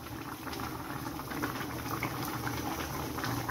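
Goat meat simmers in a pot without oil, a steady soft bubbling and low rumbling boil, close and constant, with no voices.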